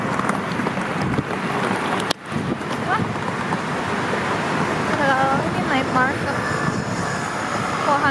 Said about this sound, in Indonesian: Oh, anginnya deras banget